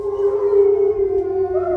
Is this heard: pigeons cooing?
no